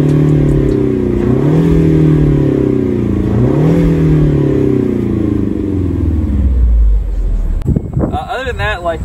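A Ford Mustang convertible's engine revs while parked, rising and falling twice, steady and loud, then cutting off near the end as other sounds take over.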